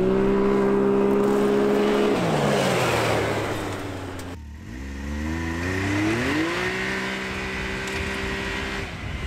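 A Can-Am Maverick X3 Turbo base-model side-by-side revs loud and close as its engine is held up on boost against the brakes, then drops and climbs sharply again in a hard launch, running outdoors in cold weather.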